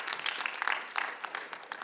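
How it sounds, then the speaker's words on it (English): Attendees at a public hearing in Buffalo, New York give a brief round of applause, soft scattered handclaps heard from a distance in a room, with no talk over them. "Round of applause for yourselves,"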